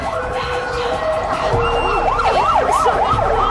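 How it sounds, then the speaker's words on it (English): An ambulance siren wails with a rising and falling yelp as it arrives, loud and close over traffic rumble. "The ambulance is here."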